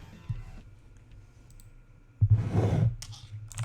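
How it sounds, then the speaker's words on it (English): Light clicking from a keyboard and small knocks of a coffee cup, followed by a louder burst of nearby handling noise, all close and without talk. "Sorry, pardon my coffee cup and my typing."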